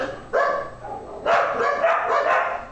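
Dogs barking at a home, a short bark followed by a longer burst of several loud, close barks, with no talking.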